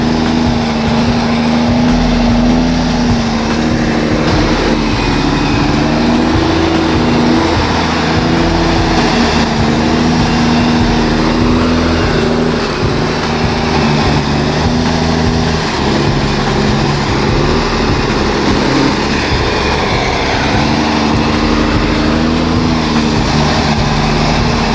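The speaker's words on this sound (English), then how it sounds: "yet the truck just keeps on chugging along" A Kenworth W900A logging truck loaded with timber labors uphill, its engine a loud, steady chugging drone with a constant low hum throughout, no talking.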